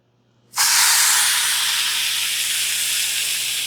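Pork carnita-style roast dropped into a preheated, smoking-hot skillet: a sudden loud hiss bursts in after a brief quiet start, then settles into a steady, bright sizzle that fades only slightly.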